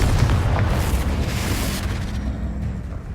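A Confringo blasting spell going off in Hogwarts Legacy, heard as a deep, rumbling explosion with a heavy low boom that slowly fades across about three seconds.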